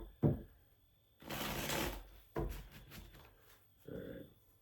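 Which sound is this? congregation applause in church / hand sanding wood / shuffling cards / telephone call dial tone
shuffling cards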